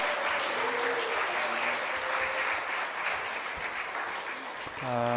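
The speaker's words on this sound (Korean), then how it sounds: "우리 한번 이기훈 목사님 나오실 때 큰 박수로 환영해 주시기 바랍니다" Steady, loud applause from a large church congregation at a Friday worship service filling the room, welcoming a pastor, easing slightly as a voice starts speaking at the very end.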